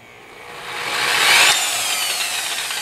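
Ultra Steel polishing buffer on speed 3 spinning up with a soft start, a loud close whirring hiss that rises steadily in pitch and volume, then holds as a sustained motor whine.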